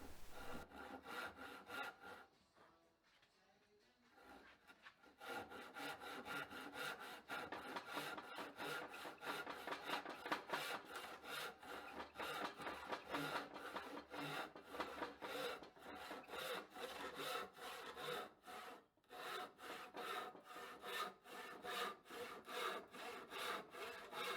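Handsaw cutting through a wooden board for a long-grain cutting board, steady rhythmic back-and-forth strokes, close and loud, with a brief pause early on before sawing resumes and continues without talk.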